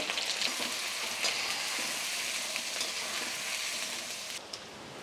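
Finely chopped green chillies and onions fry in a pan with a steady, close hiss and faint crackles that ease slightly near the end. No voices.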